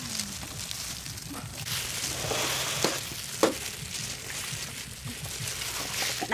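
Bananas fry in a hot pan with a steady, close sizzle and crackle throughout, with occasional pops and stirring clatter over the continuous hiss.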